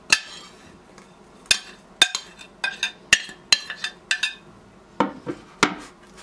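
A metal spoon smoothing no-bake cheesecake filling in a mould knocks against the mould in about a dozen sharp, close clinks and taps. They come in an irregular rhythm over quiet, with no talking.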